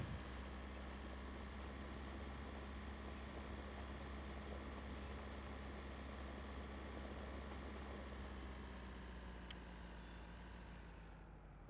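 A tractor engine idles in the farming game Pure Farming 2018 with a sprayer attached, a faint, steady low drone that holds evenly throughout with no talk.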